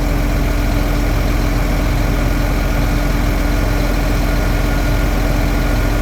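Concrete pump truck engine idling at a job site, a steady loud low drone with a constant hum, unbroken and with no other sounds over it.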